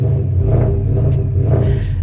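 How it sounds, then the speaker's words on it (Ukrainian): A Porsche Panamera's engine rumbles deeply and revs up, a steady throaty roar close by with no talking. "А що мені тут подобається, це звук цього автомобіля."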